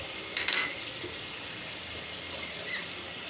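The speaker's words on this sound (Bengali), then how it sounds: "পেঁয়াজটা ভাইজে নিচ্ছি তেলে" Onion and green chillies frying in oil with spices in a pan, a continuous low sizzle with a brief utensil squeak near the start.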